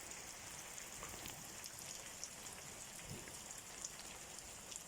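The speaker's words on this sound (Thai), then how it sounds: "ฝนตกมานี่นะมาคักร้าย" Dense, steady rain hisses continuously, with scattered drops pattering close by and no voices.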